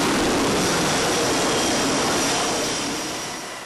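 Jet aircraft roaring aboard an aircraft carrier that launches and recovers planes at roughly 30-second intervals; a loud, steady broadband engine roar holds throughout, easing off slightly toward the end.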